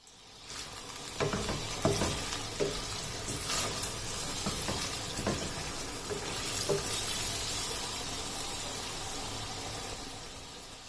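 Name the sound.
whole spices sizzling in oil for chicken chana dal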